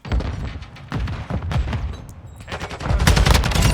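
Automatic rifle fire in a Call of Duty Modern Warfare II ranked match, dense bursts of close, loud shots stacked with booming reports and thuds, building heavier toward the end.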